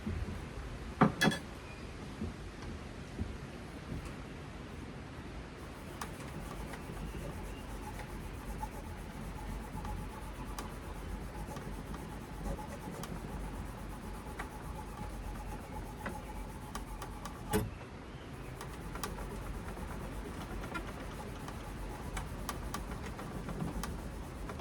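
A hand-forged knife blade rubbed with Pikal paste metal polish, giving a soft, continuous scrubbing and rubbing with a few sharp clinks near the start and a louder knock partway through, fairly quiet overall.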